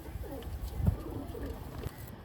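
Pakistani Teddy pigeons coo in a loft, low rolling burbles repeating quietly over a couple of seconds with faint rustling in the background.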